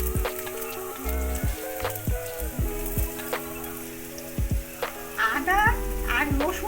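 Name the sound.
chopped ginger sizzling with frying garlic in oil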